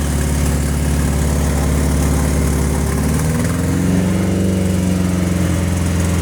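A car engine held at 3000 RPM, a loud, steady, close drone with a buzzy low hum that shifts slightly in pitch partway through, no talking.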